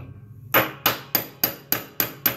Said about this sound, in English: You can use a little ball peen hammer like this with a tuning